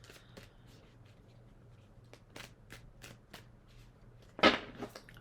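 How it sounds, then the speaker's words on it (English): A deck of cards is shuffled by hand in a quiet room, with soft, irregular riffling and flicking strokes and a sharper, louder snap of cards near the end. "So I'll keep shuffling."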